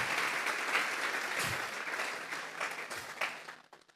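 A church congregation claps as an offering to God, a full burst of steady applause that fades out near the end.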